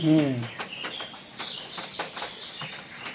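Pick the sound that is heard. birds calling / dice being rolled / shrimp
birds calling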